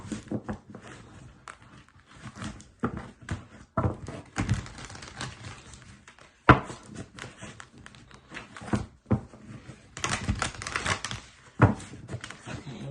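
A deck of oracle cards is shuffled by hand close by, with quiet, irregular rustling, riffling and soft card taps running continuously for several seconds.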